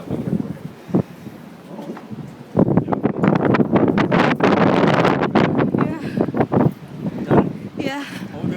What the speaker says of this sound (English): Opening the door, hear the wind.